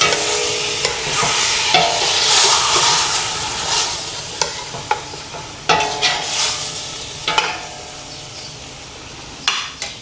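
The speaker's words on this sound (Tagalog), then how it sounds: "hayaan lang natin siyang mag-isa until medyo mag-brown na yung chicken" Chicken browning in a pan for a big batch of sautéed mung beans, with a loud, steady sizzle and sharp spatula scrapes and knocks at irregular intervals, close up with no talk.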